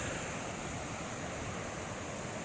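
Fast, cold glacier meltwater near Rupal Glacier rushes in a steady, dense roar, unbroken and fairly faint, with no voices over it.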